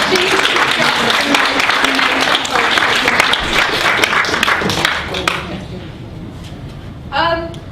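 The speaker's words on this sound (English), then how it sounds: "Can we just give Bonnie a really big round of applause?" An audience at a graduation event claps for Bonnie, a loud, dense burst of clapping that carries on for about five seconds and then fades to a few scattered claps, with some voices mixed in.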